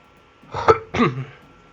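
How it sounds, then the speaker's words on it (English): Two short, harsh throaty bursts close to the mic, a pair of coughs or throat clears in quick succession from a slightly ill person, with no talking. "Sorry about all the coughs and stuff."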